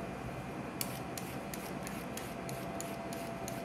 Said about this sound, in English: you just peel the parsnip just like a carrot